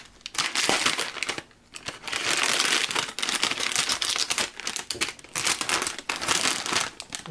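Crinkling plastic of a sticker packet being torn open and handled, close and busy, with bursts of rustling and crumpling that pause briefly and resume throughout.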